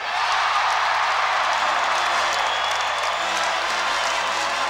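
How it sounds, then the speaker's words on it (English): Crowd noise fills a basketball arena at an Indiana versus Wisconsin game, with a steady, loud roar and scattered applause and cheering throughout. Band music is not clearly distinguishable beneath it. "The band strikes up, and the crowd is ready."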